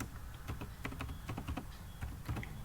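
Fingers typing a file name on a computer keyboard, a quiet, close run of irregular key clicks in short bursts with brief pauses between them.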